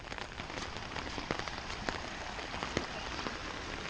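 Steady rain falls during flooding in southwest Ohio after nearly four inches in a day, a dense, even patter on surfaces with occasional sharper drops close by.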